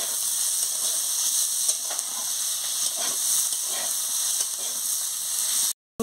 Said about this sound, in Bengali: পেঁয়াজ দিয়ে ভালো করে আলু আর বেগুনের সঙ্গে ভেজে নিচ্ছি।